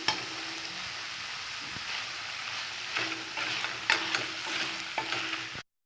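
Mushrooms and tomato frying in oil in a pan, a steady close sizzle broken by a few scraping stirs, ending abruptly.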